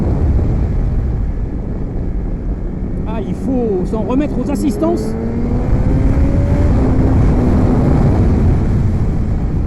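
A BMW M 1000 XR motorcycle with its 201-horsepower ShiftCam engine accelerates hard, its engine note climbing steadily in pitch over a steady rush of wind noise while someone talks over it.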